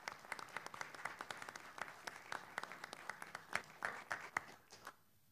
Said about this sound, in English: So let's give CCNA and that collaboration a big round of applause as well.